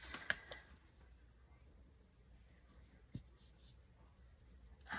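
A pen outlines shapes on paper for a collage, with faint, quiet scratching strokes and a few soft taps and rustles of the paper.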